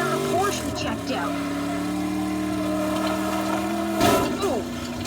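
A car engine in the Teardown video game holds a steady mid-pitched drone while the car drifts without turning, with a brief louder surge near the end. A person talks over it.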